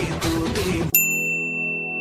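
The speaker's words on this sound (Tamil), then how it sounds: "இவ இதுக்கு இப்போ ஃபோன் பண்ணிட்டு இருக்கா?" A mobile phone goes off during a church service, a bright electronic chime cutting in suddenly after a burst of noise and ringing on with a sustained, pure tone.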